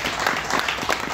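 A crowd applauds during a company managing director's address at an electric-vehicle business meeting. There is a brief, continuous burst of mixed clapping throughout the short moment.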